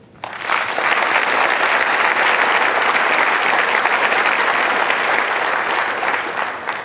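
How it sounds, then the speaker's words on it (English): A large conference audience at a career development association's opening session gives a sponsor a sustained round of applause, loud and even, rising sharply after a brief quiet start. "Can I have a warm round of applause for Cooter Incorporated"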